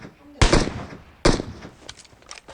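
Two sharp, loud gunshots about a second apart ring out in a mobile battle royale game, each with a short echoing decay, then lighter scattered shots trail off.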